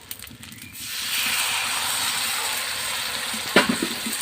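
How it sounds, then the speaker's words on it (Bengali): Water poured into rice grits cooking in a hot pan bursts into a loud, steady sizzling hiss that swells after a second and keeps going, with a few sharp crackles near the end. "এবার দিয়ে দিব একটুখানি জল"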